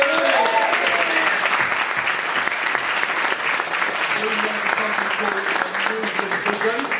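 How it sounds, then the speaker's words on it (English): Sustained, loud audience applause fills a 2017 sales awards ceremony as a winner comes up to collect an award, steady dense clapping throughout with a voice speaking over it partway through. "No, keep clapping, keep clapping."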